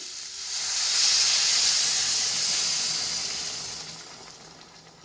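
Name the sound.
water poured into hot pan, hissing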